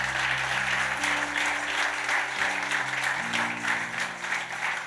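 Church congregation clapping steadily throughout, a dense, sustained wash of applause with low sustained tones, likely organ or keyboard, underneath.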